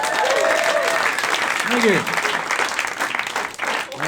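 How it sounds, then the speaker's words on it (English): Audience applause at a free live comedy show at a fringe festival in Hastings, a steady wash of clapping that fades as a performer's voice comes in briefly toward the end. "Give yourselves a round of applause."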